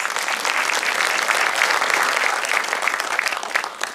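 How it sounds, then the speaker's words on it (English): Steady, dense applause from a crowd at a movie premiere in Toronto, loud and continuous throughout with no voices breaking through. "he deserves a round of applause"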